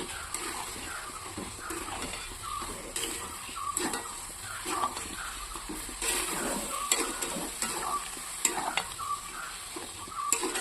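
Sugar melting in a pan over low heat gives a soft, continuous sizzle, with repeated scraping strokes of a spoon as it is stirred.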